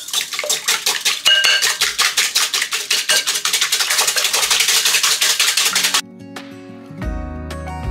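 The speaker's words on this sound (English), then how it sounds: "And whisk." Egg yolks and whole eggs whisked briskly in a bowl for a strawberry custard tart, a fast steady rhythm of whisk strokes against the bowl for about six seconds, then a clink and a low hum.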